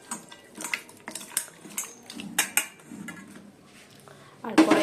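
Prawns are mixed with salt and turmeric in a bowl, giving a string of light metallic clinks and dish knocks at an uneven pace, close by, with a louder clatter at the end.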